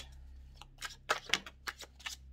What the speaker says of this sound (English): So I'm just going to give these a shuffle.